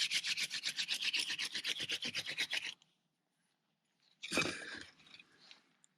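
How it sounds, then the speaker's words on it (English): A wooden hand-drill spindle spun between the palms on a fireboard makes close, rapid, rhythmic rasping strokes for nearly three seconds. After a short silence comes one louder, brief scrape. "I'm just keeping my hands in one spot on the spindle by moving one up and one down simultaneously."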